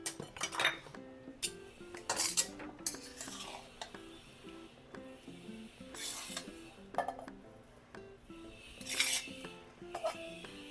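Cooked potato filling for vada pav scooped out of a pan, repeated metallic clinks and scrapes of a spoon against the pan in irregular bursts, close and clear, no talking.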